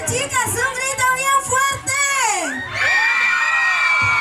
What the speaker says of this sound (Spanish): Chicas, un grito, pero bien fuerte,